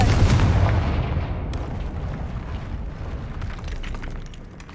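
A Confringo fire spell explodes in the video game Hogwarts Legacy, a loud, broad blast that opens the clip and settles into a sustained rumbling roar slowly fading over several seconds, with no speech.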